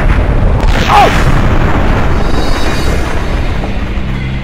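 A loud, booming explosion in the Max Payne video game, a heavy blast with a rumbling tail that fills the moment, while a voice exclaims briefly.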